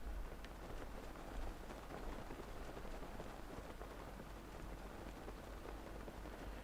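In-game rain from a Zelda adventure patters steadily on surfaces, a soft continuous hiss of drops at low level without any speech.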